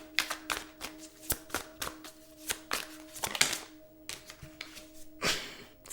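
Tarot cards being shuffled by hand: a rapid series of crisp riffling bursts and soft slaps, close and fairly quiet, with a steady faint hum in the background and no talking.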